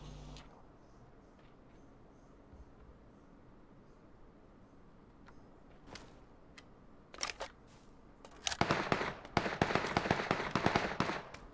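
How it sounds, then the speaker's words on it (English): Gunfire in PUBG on Xbox One X, with scattered sharp shots early, then a dense, loud burst of rapid cracks and bangs in the closing seconds, alone without voices. "Someone is shooting, bro."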